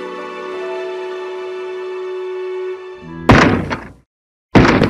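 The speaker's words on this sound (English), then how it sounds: "Someone's kicking at the door!" In a Minecraft night scene, a sustained tonal drone gives way to two heavy, loud thuds of someone kicking at a door, separated by a brief silence.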